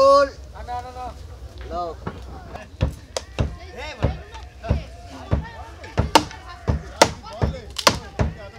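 Wooden boats are being repaired on a riverbank, with sharp hammer knocks ringing out at irregular intervals, some near and loud, under people talking nearby.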